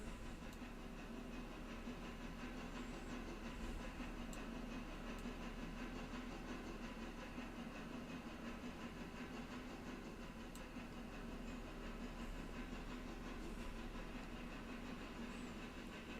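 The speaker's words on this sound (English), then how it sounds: "Let's take control of the train." Steady rumbling hiss of a train climbing uphill in the railway simulation game Railroader, a continuous even drone with faint occasional clicks, no voices.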